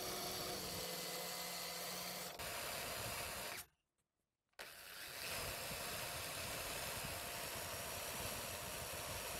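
Electric drill spinning a wooden workpiece against a running belt sander while shaping a blowpipe: a steady whirring hum that cuts out completely for a moment, then returns and continues evenly, with no talking.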